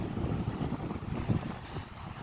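Wind blowing outdoors on a walk, buffeting the microphone with a steady low rumble and gusty swells throughout, with no talking.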